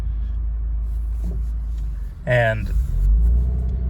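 A 2022 Subaru WRX idles at low RPM during a cold warm-up, a steady deep engine rumble underneath, with someone talking briefly over it.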